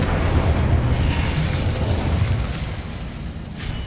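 Incendio fire spell blast in Hogwarts Legacy, a continuous roaring, rushing burst of flame and explosive rumble that stays loud and dense throughout, gradually easing slightly toward the end.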